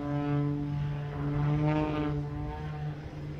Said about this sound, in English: these airplanes are doing maneuvers that some 40 years ago weren't even thought possible